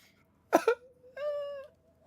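A house cat gives a few short, close-up vocal chirps followed by a single longer, tonal meow in an otherwise quiet room.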